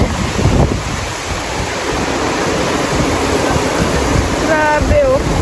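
Heavy rain falls with gusting wind in Ilocos Norte, a dense continuous hiss and roar up close, with a voice speaking briefly near the end.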